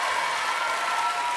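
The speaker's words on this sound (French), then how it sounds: "Donc bravo, applaudissements pour lui, s'il vous plaît, mesdames, messieurs." A French TV studio audience gives brief, even applause, a dense wash of clapping lasting just over a second.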